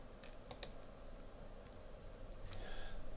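Faint computer mouse clicks, a quick pair followed by another click a moment later, over a low steady room hum while editing in Pinnacle Studio 19 Ultimate.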